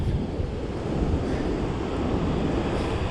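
Rough, stormy ocean surf pounds at the North Jetty in Ilwaco, a constant loud roar of breaking waves mixed with wind buffeting the microphone.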